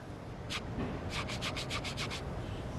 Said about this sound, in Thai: คนงานขัดทรายบนโครงและตะเกียบล้อเพื่อให้แน่ใจว่าเรียบและไร้รอยต่อ